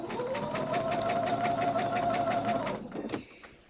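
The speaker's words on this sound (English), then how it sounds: "And I'm going to start stitching." Sewing machine stitching fabric while binding a table runner, a fast steady mechanical whir with rapid needle ticks and a high motor whine, running continuously for nearly three seconds before slowing and stopping with a clunk; close and loud.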